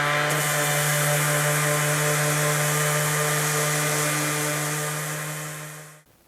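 A Dewalt 20V cordless sander, model DCW210, running with a steady buzzing drone close by, then winding down and stopping.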